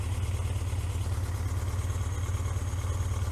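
A Yamaha XJ900F motorcycle engine idles at close range as its clutch is engaged, giving a steady low, even throb with a faint mechanical clatter and no change in pace.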